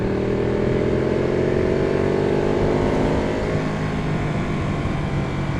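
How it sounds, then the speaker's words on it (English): A Ducati 1199 Panigale's large-displacement V-twin engine drones loud and close while riding, its pitch climbing steadily under acceleration with a rough rumble and wind roar beneath. "the engine is a torquey bitch because it's a V-twin with a ridiculously huge displacement"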